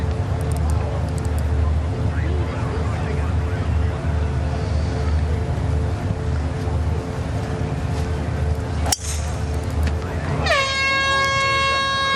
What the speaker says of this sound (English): the siren sounds with the ball in the air